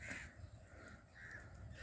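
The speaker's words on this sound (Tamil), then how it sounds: "அந்த காக்கா காகங்கள் தான் குளிச்சிட்டு இருக்குது அதை பாருங்கள்" Crows cawing while bathing in a small waterfall, with several harsh caws in a loose rhythm over steady rushing water.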